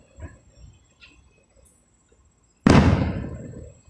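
A single loud firework explosion erupts near the end and trails off into a crackling rumble, preceded by faint scattered pops and chirps.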